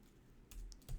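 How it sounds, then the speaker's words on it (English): A few soft keyboard clicks and key presses, sparse and irregular, close by in a quiet room with no talking. "So if I'm typing here"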